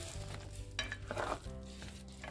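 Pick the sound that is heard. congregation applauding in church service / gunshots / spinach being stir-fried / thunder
spinach being stir-fried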